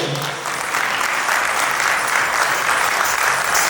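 Loud, sustained applause from an awards show audience fills the hall for the children, a thick, continuous wash of clapping with no break and no voices over it.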